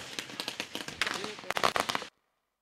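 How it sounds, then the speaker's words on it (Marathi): Rapid firecracker bursts crackling in a fast irregular string to welcome guests at a cricket tournament, loud and close, then stopping abruptly. "फटाक्यांच्या आतिषबाजीने पाहुण्यांचं स्वागत."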